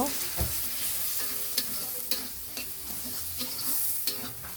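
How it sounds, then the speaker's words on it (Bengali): Coriander and chili powder spice paste fries in a pan, a dense, close sizzle broken by repeated scraping stirs, with no voices. "তারপর দেবো ধনিয়া গুঁড়া মরিচের গুঁড়া আবারও ভালোভাবে একটু ভেজে নিব"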